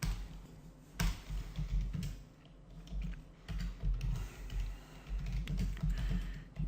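Someone types on a computer keyboard at close range, giving soft, irregular tapping keystrokes in short bursts with brief pauses.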